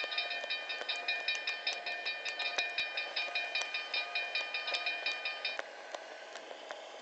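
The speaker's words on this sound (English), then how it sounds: "here comes a special train now." A BNSF SD70ACe locomotive leads a special oversize-load train with custom cabooses past the viewer in the Trainz 06 simulator. Steady, rhythmic clickety-clack of wheels on rail joints rides over a droning engine tone, then thins out near the end.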